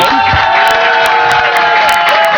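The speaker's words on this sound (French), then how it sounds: "on va vous applaudir à nouveau" A television studio audience cheers and applauds loudly and steadily for a French music group honored at the Victoires de la Musique, with whoops rising over a dense, continuous crowd roar.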